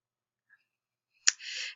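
One sharp click from a computer mouse, near and brief, followed by a short hiss of noise in an otherwise silent background.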